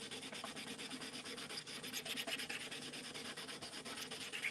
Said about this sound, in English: You can see I'm really sanding it